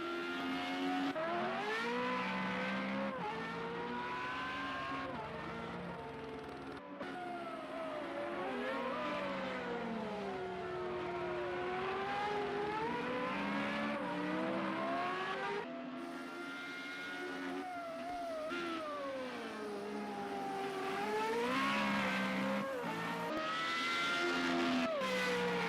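Formula Renault race cars in Project CARS at the Zhuhai circuit, engines revving and shifting continuously through gears, pitch sweeping up and down under acceleration and braking, loud and close throughout with a brief dip partway.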